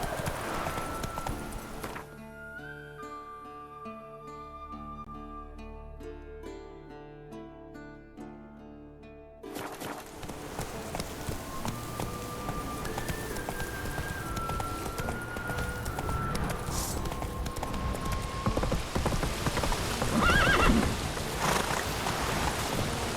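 Hooves clip-clop steadily from a galloping horse in The Witcher 3, starting under a musical passage and continuing through ambient rain-like noise, with faint neighs possible; moderately loud and close, no talk.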